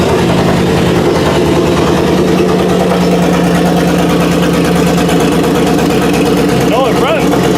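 A truck engine fires up after the fuel pump is hooked up, then settles into a steady low idle that runs throughout, with a revving swell near the end; people talk over it.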